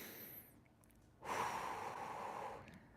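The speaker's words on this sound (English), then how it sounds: "you can take those nice deep inhales and exhales as you go" Deep breathing during a lower-body stretching session for side splits, with a single long, soft, close exhale lasting over a second in a quiet room.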